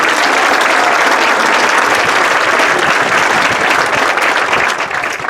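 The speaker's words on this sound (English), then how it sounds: "How about a round of applause for the outstanding sophomores?" An audience at a band night gives sustained, loud applause for outstanding sophomore band members, a dense steady wash of clapping that holds evenly throughout and eases slightly at the very end.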